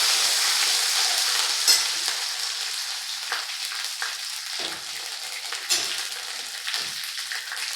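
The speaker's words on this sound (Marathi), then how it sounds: "मिरची आणि लसूण बारीक करून घेतला परतून घेऊ आपण" Chopped green chili and garlic sauté in a pan for a spicy masvadi rassa, giving a continuous close sizzle with occasional stirring scrapes that fades slightly over time.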